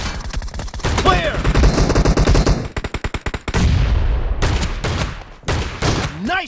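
Rapid M1014 shotgun blasts from the BGMI mobile battle game, several loud shots fired in quick succession mixed with bursts of game gunfire, close and dominant, with brief game voice lines between.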